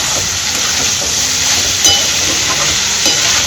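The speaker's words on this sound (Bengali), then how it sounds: "এখানে হচ্ছে পটল আলু ভাজা" Pointed gourd and potatoes frying in a home kitchen, a loud, dense, steady sizzle heard close up, with a couple of faint clinks and no talk.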